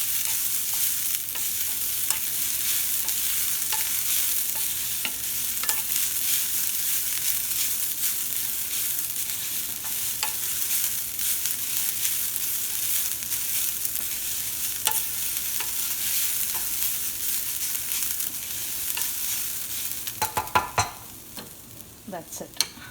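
Coconut is gently warmed in a pan, with a soft, steady sizzle and light stirring scrapes running continuously at moderate level, a few clatters near the end.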